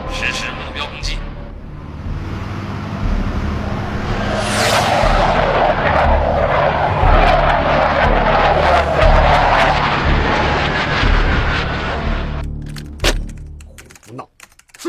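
A formation of four military aircraft passes overhead, their engine roar swelling into a loud, sweeping rush and then fading away over about fifteen seconds.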